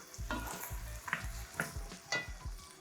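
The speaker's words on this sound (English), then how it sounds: "continue to toss it, breaking up the cassava into smaller pieces as well with the spoon" Cassava cooking in butter in a pan, tossed and broken up with a spoon: repeated scraping stirs in an uneven rhythm over a soft sizzle, close and fairly quiet.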